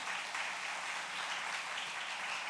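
A church congregation claps together during a Sunday morning worship service, steady dense applause filling the room without a break and no voices over it.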